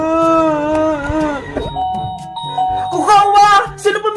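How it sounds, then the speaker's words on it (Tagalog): A doorbell chimes with clear ringing tones, sounding first and then again later, mixed with speech and other sounds in between. "sino puminto ng doorbell?"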